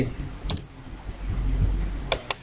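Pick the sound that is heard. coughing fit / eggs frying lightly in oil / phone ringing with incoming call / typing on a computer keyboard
typing on a computer keyboard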